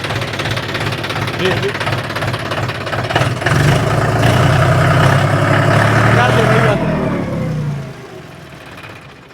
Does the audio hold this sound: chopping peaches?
no